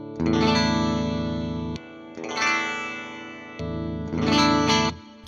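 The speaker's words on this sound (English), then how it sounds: "it sounds extra bright and nasally due to the whole doublings of the strings" A 2025 BC Rich Neal Moser Rich Bich 10-string electric guitar with doubled strings strummed in three sustained chords, each ringing bright, nasal and shimmering with a chorus-like doubling, loud and close with no talk.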